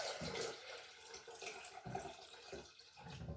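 Water poured from a rectangular container, a faint, continuous splashing trickle with soft gurgles, heard quietly and alone over several seconds.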